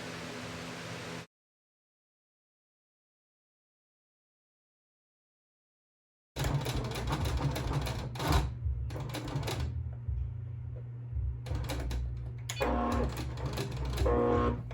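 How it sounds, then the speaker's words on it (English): A sewing machine stitches around the edges of a fabric drink coaster, its rapid mechanical clatter starting after a short silence and running loud and close in bursts with brief pauses. "So just continue to sew around the edges and I'll meet you back at the corner where we started."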